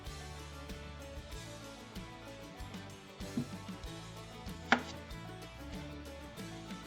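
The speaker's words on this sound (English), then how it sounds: "Okay, so I cut up the potatoes. I'm going to cut this one more time." A knife chops potatoes on a cutting board in a few sparse, soft knocks, with one sharper clack standing out above a quiet, steady background.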